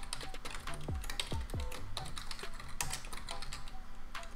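Rapid clattering of a computer keyboard as Python code for a hello-world program is typed: fast, close key taps in an uneven stream, with a few faint tonal sweeps in the background.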